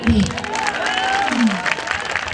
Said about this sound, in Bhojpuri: हम चाहेंगे कि ताली के रूप में एक बार जोरदार आशीर्वाद दे दीजिए मुझे